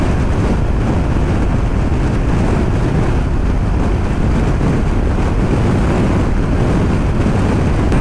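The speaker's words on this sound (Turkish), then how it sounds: "Şiddetli rüzgar var." Strong wind roars steadily into the microphone at a Mongolian border crossing in Bayan-Ölgii, a dense low rumble buffeting throughout with no letup and no voices.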